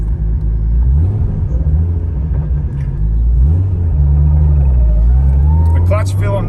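Low, steady engine rumble from an FRS with a swapped-in 2JZ engine as it pulls away, the drone rising and shifting in pitch, holding loud and close throughout.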